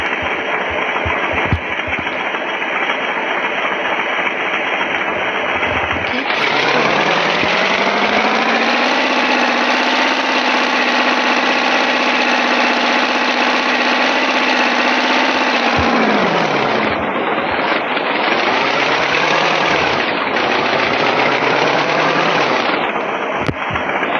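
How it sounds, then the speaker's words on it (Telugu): A boat engine in the Roblox video game drones loudly and steadily without a break. Its pitch rises and settles into a higher hum, then dips and wavers near the end as the speed changes. "మనం ఈ బోట్ స్పీడ్ పెంచచ్చు."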